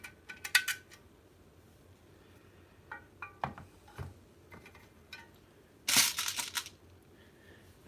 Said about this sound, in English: the next step I will be putting the nut on the other side of these screws